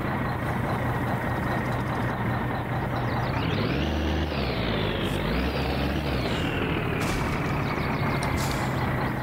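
A truck engine drones loudly and continuously in the video game My Summer Car, with revs rising and falling twice mid-way and a steady low rumble throughout, close and alone without talk.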